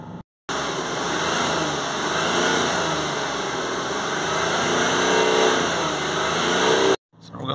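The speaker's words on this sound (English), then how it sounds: "We're just going to hold some revs on it so we can push out that fluid" An Audi A4 3.0 TDI V6 diesel engine is held at raised revs during particle filter cleaning, giving a steady, sustained mechanical drone that starts abruptly and cuts off sharply near the end.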